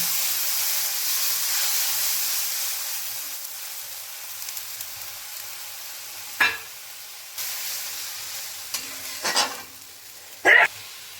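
Mustard paste hits a hot frying pan with a broad hissing sizzle that slowly fades, followed by a few sharp clacks of a spoon or spatula against the pan.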